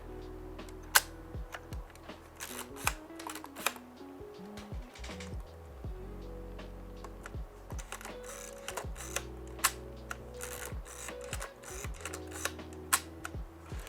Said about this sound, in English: I'll let you hear the shutter here. I'll try to put it next to the mic.